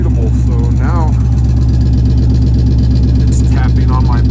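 A car engine running through a borrowed exhaust that taps against the bumper, a loud steady low drone close by, with a person talking over it.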